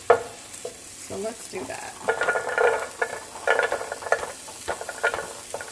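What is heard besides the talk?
carrots stir-frying in a pan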